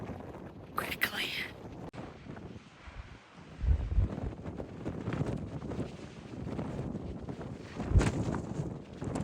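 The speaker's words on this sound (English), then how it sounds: "I've been thrown off balance a few times by some gusts of wind." Strong wind buffets the microphone in rough, uneven gusts on a mountain top along the Appalachian Trail, with occasional quiet speech under the roar.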